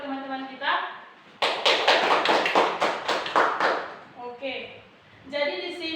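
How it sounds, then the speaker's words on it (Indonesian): Junior high students in a classroom burst into a couple of seconds of brisk, rhythmic clapping for a classmate, close and lively, with a voice talking just before and after. "tepuk tangan untuk yang menjawab arti dari hak dan kewajiban buat teman-teman kita"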